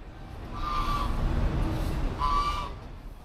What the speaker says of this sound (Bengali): এই জায়গাটায় কত হাঁস মুরগি ছাড়া আছে দেখুন